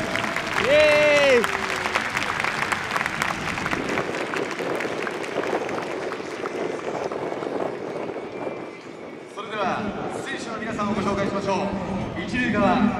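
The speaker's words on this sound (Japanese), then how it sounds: "皆さん大きな拍手を送ってください。" A stadium crowd at Yokohama Stadium applauds former Kanagawa high school baseball players as they enter for a dream match, a loud sustained roar of clapping and cheering with a brief vocal shout near the start and an announcer's voice over it.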